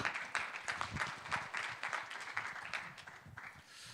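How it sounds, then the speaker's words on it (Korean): A conference audience in Seoul claps to welcome a speaker from SK Telecom's UAM business, a quiet, distant patter of many hands that thins slightly toward the end. "예, 큰 박수로 환영해 주시기 바랍니다."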